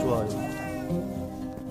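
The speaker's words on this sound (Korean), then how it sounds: "주위에 지금 고양이도 와서 달라고 그러는데, 줄 수 없죠." A cat meows near an outdoor wood fire where chicken and octopus simmer in a cast-iron cauldron. One drawn-out, wavering call rises over a low background hum, with no talk.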